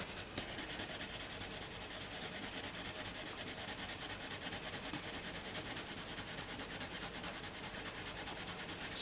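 Bambino crayons scratch across paper during colouring in a close, steady rubbing texture. The strokes run continuously for several seconds with no talk.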